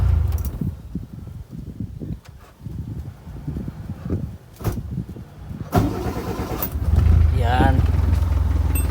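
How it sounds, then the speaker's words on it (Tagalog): A Kia Pride with a B1 engine cranks and catches, then settles into a steady low idle, loud and close, following stretches of someone talking over intermittent engine noise. "Minsan kasi yung starter di ko makagat. Kaya may kakaibang tunog."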